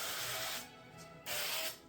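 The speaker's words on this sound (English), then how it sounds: "Spray here." Cooking spray hissing onto cake pans in two short close bursts separated by a pause.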